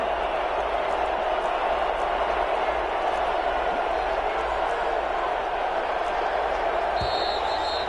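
Steady roar of a stadium crowd in a football video game, a constant dense wash of voices at a goal-line play, with a few faint thumps in the background.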